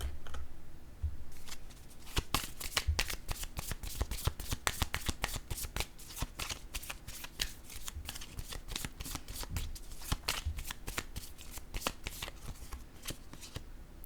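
Tarot or oracle cards being handled and shuffled during a card reading, a steady run of dense crisp riffling and slapping close up for the whole stretch, with no talking.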